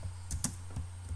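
Light keystrokes tap on a computer keyboard while text is entered into a document, a few soft clicks at an uneven pace over a low steady hum, quiet and close.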